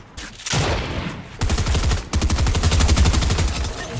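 Rapid automatic gunfire in the Fortnite video game, loud, close bursts of fast repeated shots with a brief pause between them.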